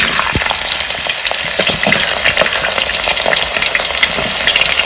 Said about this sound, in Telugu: ఇప్పుడు మనము పెద్ద ఉల్లిపాయలు వేసేసుకుందాం.